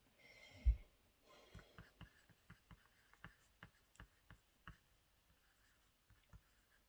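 Pencil scratches paper in a quick run of about a dozen short, evenly spaced strokes after one louder tap, close and quiet, as a craft sheet is marked along a small ruler.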